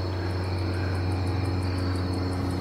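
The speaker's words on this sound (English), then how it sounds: "let me get our plane coming by." An airplane passes overhead at night under a clear starry sky, a steady droning engine hum with a faint pulsing propeller beat, moderately loud and continuous, with no talking.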